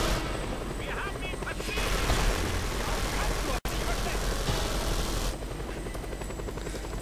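A helicopter in the video game Just Cause 2, a loud continuous rotor roar close by, with gunfire and other game sounds mixed in and a brief cut near the middle.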